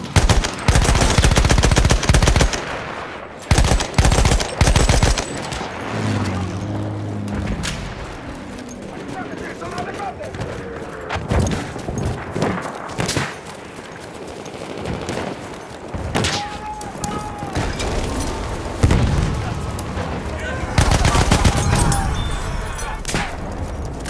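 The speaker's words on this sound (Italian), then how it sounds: "Ho visto una mitragliatrice!" Machine gun fire in Battlefield 1 conquest combat, with loud bursts at the start and again near the end, scattered shots and booms between, and voices speaking over the battle.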